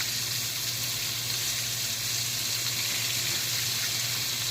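Cornflake-coated chicken frying in a hot pan, a steady, dense sizzle with continuous crackle lasting throughout, close and even in level with no voices.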